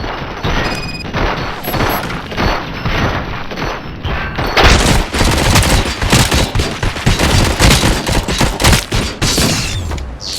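Heavy gunfire in RoboCop: Rogue City on Xbox Series X: loud, dense bursts of rapid shots and booming impacts, continuous and close, with no voices.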